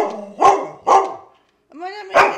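A hungry dog barks for food in the morning, three loud close barks with a pause between the second and third, a whiny vocal edge to the last.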